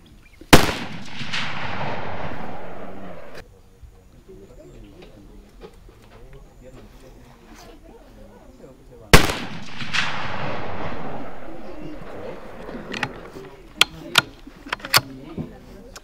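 Two loud, close shots from a Sabatti .308 bolt-action rifle fired outdoors at a 200-metre range, each a sharp crack with a long rolling echo, followed by metallic clicks of the bolt being worked.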